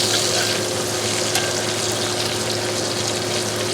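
Butter sizzles steadily and loudly in a hot pan with steak, a dense continuous hiss and crackle close by, with no talking.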